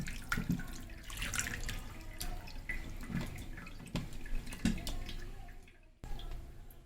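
Tap water runs and splashes while chhena cheese for rasagulla is rinsed by hand in a kitchen, an uneven gurgle with soft drips and knocks, fairly quiet with no talking.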